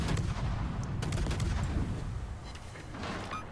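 Warship guns fire in World of Warships as a run of loud overlapping naval cannon booms. Bursts of salvos rumble continuously with a rolling low roar and a few sharp cracks, and no talk is heard.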